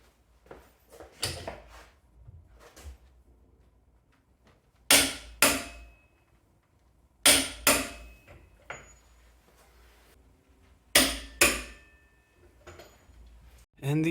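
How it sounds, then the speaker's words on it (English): A torque wrench tightening a wheel with Porsche rims on a 1973 Super Beetle with a Subaru engine swap, giving loud sharp clicks in pairs spaced several seconds apart, with softer handling noises and faint mechanical clatter between. "so I can easily get my torque wrench in there."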